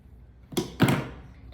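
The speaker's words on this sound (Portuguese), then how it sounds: "agora, pode cortar uma parte do fio" Scissors cut through crochet yarn in two quick, close snips, soft and crisp, with no talking.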